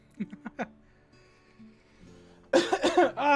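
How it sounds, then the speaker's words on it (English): A few short, close throat-clearing coughs come in quick succession near the start, followed by a quiet stretch and then a voice speaking. "I gotta clear my throat"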